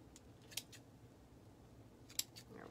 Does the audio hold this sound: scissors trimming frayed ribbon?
yes